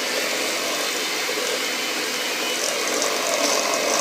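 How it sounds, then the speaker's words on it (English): An electric mixer whirs through marble bundt cake batter with baking powder, giving a steady, close, continuous buzzing hum throughout. "let's mix it a little bit so we have the baking powder nicely mixed"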